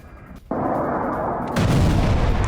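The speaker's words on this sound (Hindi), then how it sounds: "क्रीमिया में 20 से ज्यादा धमाके" Explosions from a missile attack on Crimea, a sudden heavy boom followed by sustained roaring rumble, then a second loud blast swelling into continued thunderous noise.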